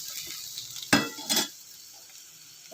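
Potatoes and onions frying in a pan for a prawn and potato curry, with a soft sizzle, a couple of louder stirring scrapes and a clink near the end.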